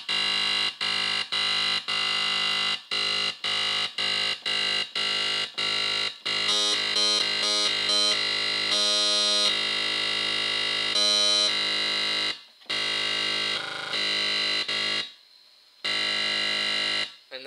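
A fat electro bass synth patch with a low-shelf EQ boost plays in choppy, rhythmic pulses, then longer sustained buzzy distorted notes with gated stops, loud and alone.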